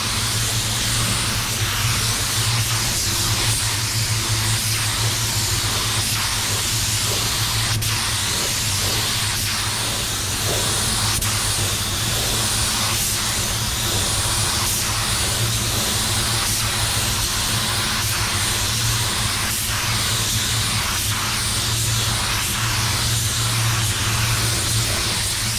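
A spray gun lays down candy red paint in a steady, loud, unbroken hiss that runs without pause from start to finish.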